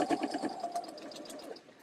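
A sewing machine stitches radiating lines on quilt blocks, a close, fast rhythmic whirring chatter that runs steadily for under two seconds before easing off.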